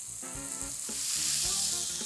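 Vegetables stir-frying in a hot pan for a soy sauce soup, a steady loud sizzle with rhythmic stirring scrapes and tosses, close up, no talking.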